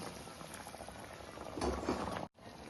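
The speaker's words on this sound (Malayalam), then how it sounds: "ആവശ്യമുള്ള ചൂടുവെള്ളം ഒഴിച്ചു കൊടുക്കുക" Hot water pours into a pan of soya chunks masala gravy, a steady bubbling, liquid rush that swells midway, breaks off abruptly for a moment, then resumes, close and moderately loud with no talking.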